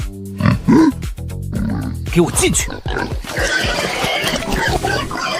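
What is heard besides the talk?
sow grunting after escaping its pen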